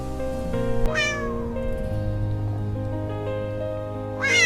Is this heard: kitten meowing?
yes